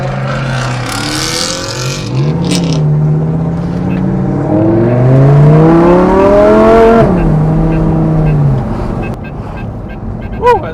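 Supercars accelerate hard onto a Monterey freeway, their engines climbing through rising gear pulls in loud, close sweeps before the sound fades, with wind rushing throughout.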